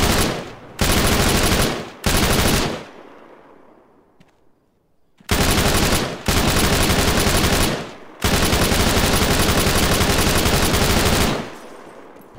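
Loud, close bursts of sustained automatic gunfire from a weapon in the Arma 3 military video game on the Tanoa map, long continuous volleys separated by brief pauses and one longer quiet gap.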